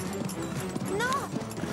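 A riding horse named Hugo clip-clops in steady hoofbeats during a dressage turn and lets out a brief rising whinny, with people talking over it.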